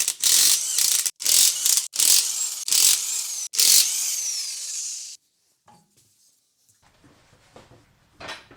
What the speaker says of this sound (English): Remove the wheel lug nuts with a 19mm.